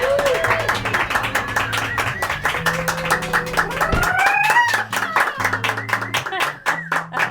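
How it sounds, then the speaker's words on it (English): Applause on a talk show episode: dense clapping from a studio audience, steady and loud throughout, with sustained musical tones playing beneath it. "That was a Cinco de Mayo applause."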